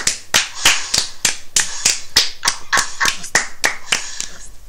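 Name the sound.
applause, clapping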